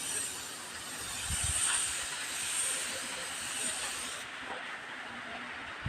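Heavy nonstop rain pours down as a dense, steady hiss that swells and eases slightly, with no talking.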